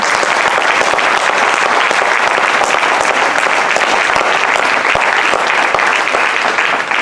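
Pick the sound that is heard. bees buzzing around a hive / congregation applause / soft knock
congregation applause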